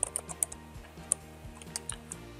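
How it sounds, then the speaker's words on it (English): Typing on a computer keyboard while entering report text in PC-DMIS CMM software: a quiet, irregular run of sharp key clicks over about two seconds, close and clear, with no talking. "And then just start typing."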